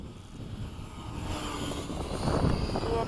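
Radio-controlled model airplane, a Sunset Hawk, flying at a club field: a faint, steady propeller and engine drone that swells slightly as it passes, heard alone with no talk.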